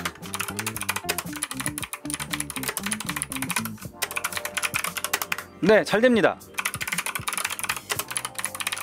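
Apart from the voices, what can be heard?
typing on a keyboard connected to an iPad Pro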